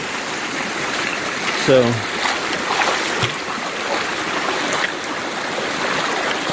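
A narrow Ozark Highlands Trail creek runs steadily with a continuous broadband rush of flowing water, close and fairly loud, while a voice briefly speaks over it.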